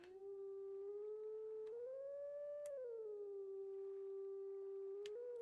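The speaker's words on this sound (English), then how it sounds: "So I'm just going around doing howling stones now." Howl at a howling stone in a Twilight Princess randomizer game: one long, drawn-out wolf-like note that rises and falls smoothly in pitch, fairly soft, with no talk over it.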